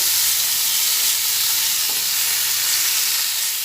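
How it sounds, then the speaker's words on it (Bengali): Gourd peel kofta curry frying and being stirred in a pan, a steady loud sizzle and hiss throughout with faint scraping of the stirring, close and continuous. "ভালোভাবে কষিয়ে নিচ্ছি"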